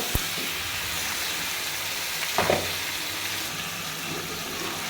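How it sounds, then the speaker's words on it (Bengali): Pieces of desi chicken hitting hot oil with fried spices, a loud steady sizzle with a sharp clatter at the start and a burst of stirring midway, close up with no talking. "মশলা ভাজা ভাজা হয়ে গেছে মুরগিগুলো এখন অ্যাড করে দিব"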